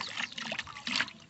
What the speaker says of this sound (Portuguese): Deixa eu pôr um pouquinho de água nele aqui.